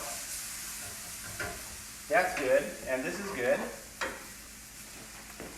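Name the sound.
beef sizzling and steaming on griddle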